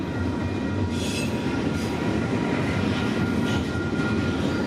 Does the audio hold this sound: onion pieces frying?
no